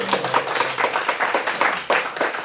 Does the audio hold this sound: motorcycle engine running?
no